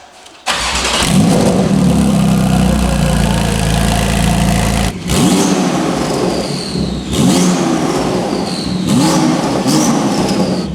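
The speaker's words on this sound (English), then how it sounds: "All right, initial startup with the downpipe 2RS." A Porsche GT2RS with straight-piped downpipes fires up with a sharp burst, settles into a loud rough idle, then is revved repeatedly with whooshing turbo sounds rising and falling.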